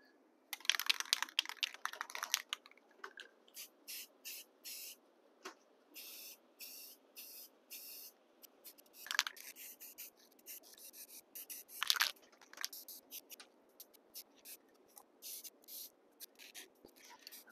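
Rust-Oleum camouflage spray paint in a light buff color hisses from a can in many short bursts onto small model pieces, the spurts close and crisp with brief pauses between them and no talk.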